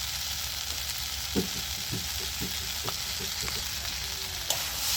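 Salt and turmeric stirred into hot oil in a frying pan while cooking Malabar spinach with shrimp: a steady, close sizzle runs throughout, broken by a series of light spatula scrapes and taps, with no talking.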